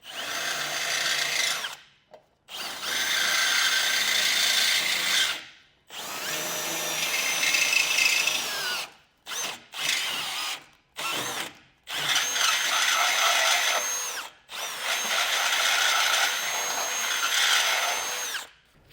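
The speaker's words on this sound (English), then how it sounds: "you can come in with a drill bit or a grinding bit like this and just completely open" A power drill fitted with a grinding bit enlarges bolt holes in a metal base plate for a 2024 Jeep Wrangler Unlimited, giving loud sustained whirring and grinding bursts broken by short pauses, with no talking.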